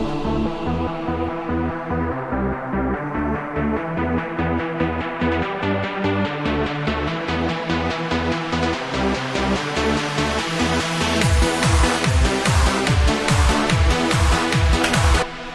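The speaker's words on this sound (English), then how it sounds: "And this creates this filter sweep effect, which gives you the impression that it's getting louder" Pre-chorus of a dark electro track with a pulsing bass-and-synth pattern whose filter gradually opens in a rising sweep, brightening the sound until a punchy kick-driven section takes over near the end, with no voices.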